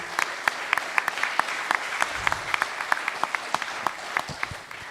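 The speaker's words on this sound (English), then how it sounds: "Give her a big round of applause" Applause from the audience at the Future Anything 2021 Grand Final, moderately loud with distinct individual claps popping out over a steady wash of clapping, tapering near the end.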